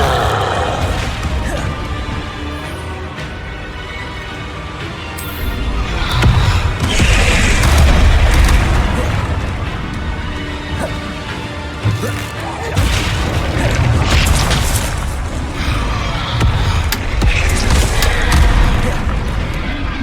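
Hogwarts Legacy combat with Bombarda and Incendio spells cast repeatedly: loud booming blasts, crashes and crackling fiery bursts over a dense, continuous battle din with voices mixed in.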